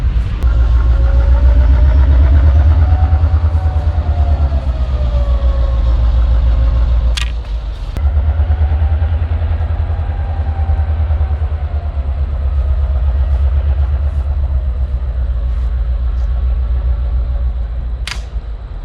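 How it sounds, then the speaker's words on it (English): A heavy train rumbles steadily nearby with a deep low drone, wheel squeal drifting above it and a few sharp metallic clanks. "we're gonna spend the whole day waiting for the trains to shut the fuck up"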